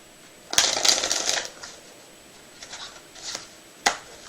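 Dan & Dave playing cards riffled and shuffled up close, a dense burst of crisp papery flutter followed by softer scattered flicks and one sharp snap near the end.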